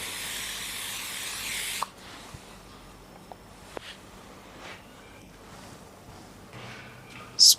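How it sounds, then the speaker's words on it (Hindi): Hair spray hisses onto a bridal hairstyle in one strong burst lasting under two seconds, followed by quieter handling noises and a brief final spurt. "स्प्रे करेंगे यहाँ पे।"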